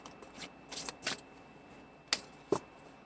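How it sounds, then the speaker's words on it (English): A deck of tarot cards is shuffled in a few soft, riffling bursts, then two sharper snaps as the cards are squared, faint and close in a quiet room. "So let's shuffle this deck"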